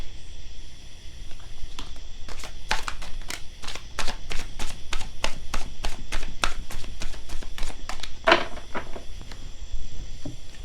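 Rebel deck oracle cards riffled in a long run of quick, crisp flicks with a sharper snap near the end, close and steady, with no voices.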